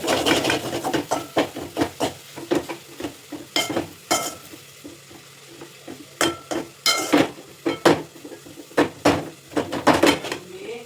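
Masala being roasted and stirred in a pan for sambhar, with repeated sharp scraping and clinking strokes of a spoon against the pan over a soft sizzle, close and irregularly rhythmic.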